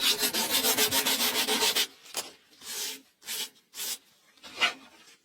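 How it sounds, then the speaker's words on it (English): Cured filler on machete handle scales is sanded by hand. First comes a rapid run of short, rhythmic rasping strokes, then slower separate rubbing passes with pauses between them, close and fairly quiet. "Then once the filler is completely dry and fully cured, he can sand it down properly"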